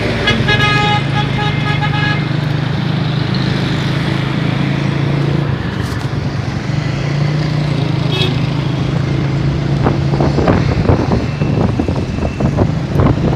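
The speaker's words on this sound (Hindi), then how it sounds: "कितना ट्रैफिक जैम हो रहा है।" Car horns tooting repeatedly in a roadside traffic jam near a petrol pump and a housing society gate, loud and close, with engine rumble and heavy wind buffeting the microphone.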